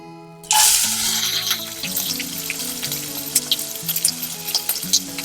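Onion hitting hot oil with mustard seeds, a sudden loud sizzle that settles into steady spluttering and crackling, close up with no talk.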